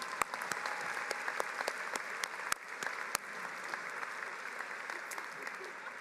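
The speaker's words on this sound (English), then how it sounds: "Please join me in applauding these special guests." Audience applause at a university arts and sciences commencement ceremony, a steady wash of clapping from a distant crowd with a few sharper nearby claps standing out.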